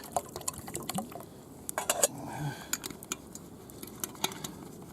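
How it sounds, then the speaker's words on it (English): Water being added to a pan of gravy and peas in a home kitchen, heard as a soft splashing trickle under scattered clinks of utensils and light kitchen clatter, fairly quiet and close. "Add a little bit of water."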